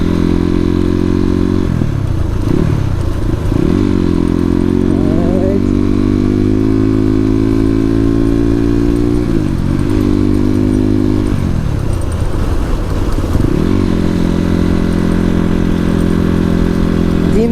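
Suzuki RM250 dirt bike ridden in daytime, its loud two-stroke engine droning steadily close by, with repeated revving surges and pitch drops as the throttle opens and closes.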